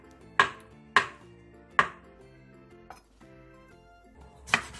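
A knife slices Cheongyang green and red chili peppers and half a block of tofu on a cutting board for kimchi stew: three sharp, evenly spaced chops, a softer cut, then one more chop, with no talking.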